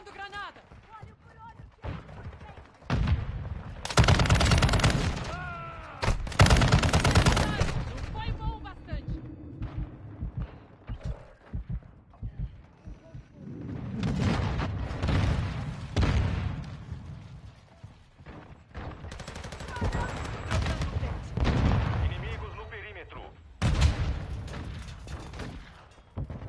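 Heavy gameplay combat with a thrown grenade: sharp booming blasts and rapid bursts of gunfire recur across the scene, loud and close, interleaved with quieter stretches where players talk.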